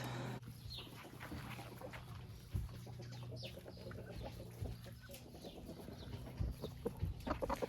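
An old Marans hen clucks in short, scattered calls near the microphone, with other farmyard fowl sounds and a steady low hum underneath.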